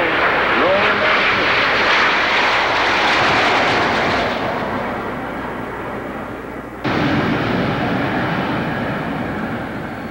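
Military jet formation of nine aircraft plus a solo flying an airshow loop, a loud sustained roar of jet engines that eases off mid-clip and then surges again, with an announcer talking over it.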